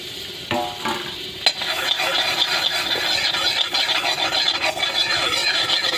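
Butter sizzles and hisses steadily in a hot kadai for a pancake, a close, even crackle with a scrape or two near the start.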